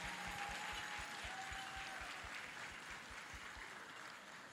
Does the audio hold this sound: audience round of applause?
yes